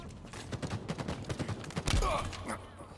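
Rapid bursts of automatic gunfire from Halo Infinite ranked multiplayer, with quick repeated shots in an uneven rhythm and a heavier blast near the end, fairly quiet overall.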